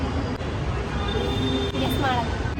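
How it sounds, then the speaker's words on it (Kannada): Metro station with a train rumbling steadily close by, a faint wheel squeal rising near the end, while people talk over the noise. "ಆಗ ಮೆಟ್ರೋ ಅಲ್ಲಿದ್ದೀವಿ."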